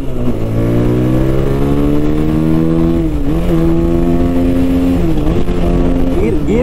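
A Bajaj Pulsar 220F motorcycle engine runs close by, its loud, steady drone rising and dipping as the throttle is blipped several times.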